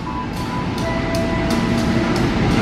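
Serayu passenger train hauled by a CC 203 diesel locomotive at Jatinegara station, a loud continuous rumble with rhythmic clicks of wheels passing over rail joints and a faint tonal whine.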